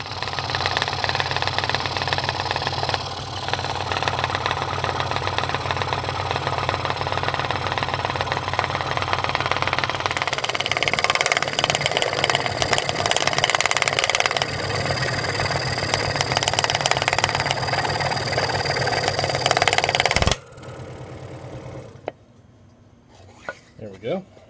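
A scroll saw cuts a curve into a wooden push block for a table saw. It makes a steady, loud mechanical drone with a rapid buzz that runs for about twenty seconds, then stops abruptly and leaves only faint sounds.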